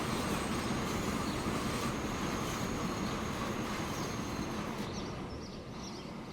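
A train in the Transport Fever game rumbles past steadily, a dense rolling wash of wheel and engine noise that eases slightly at the end.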